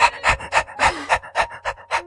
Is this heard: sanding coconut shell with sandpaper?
no